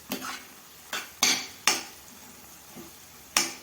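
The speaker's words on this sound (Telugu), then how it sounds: "ఇప్పుడు ఇది కలిపేసుకుందాం" A spoon mixes salt into pulihora seasoning in a vessel, giving about six sharp metallic scrapes and clinks at uneven intervals, close and fairly clear.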